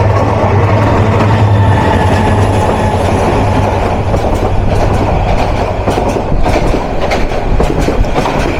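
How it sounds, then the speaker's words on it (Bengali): The intercity Jamuna Express running on its rails, a loud continuous rumble with rhythmic clickety-clack from the wheels and a low steady drone, heard close throughout. "তারাকান্দি থেকে ঢাকা অভিমুখী আন্তনগর যমুনা এক্সপ্রেস।"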